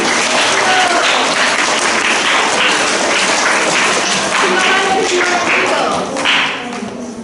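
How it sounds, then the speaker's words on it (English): A primary school assembly claps for the winning house, a close, busy patter of many children's hands that tapers off near the end. "Let's give a round of applause for Eagles, please."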